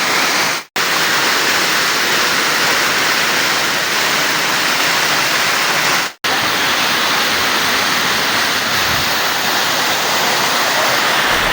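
Loud, steady roar of the waterfall at Isang Falls, a broad continuous rush of falling water filling the scene, broken by two brief dropouts.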